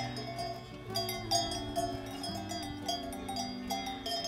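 Cowbells on grazing cows along an alpine hiking trail between Mürren and Winteregg in Switzerland, a soft continuous jangle of several bells at moderate distance, with no talking.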